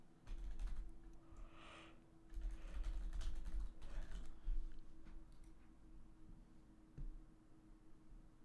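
Typing on a computer keyboard during a Goodbye Volcano High gaming stream, with bursts of quick close key clicks and pauses between them over a faint steady hum.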